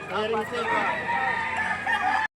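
A rooster crows loudly and close at the Padre Garcia livestock auction market in Batangas, one long drawn-out call lasting about two seconds, with crowd noise and chatter underneath.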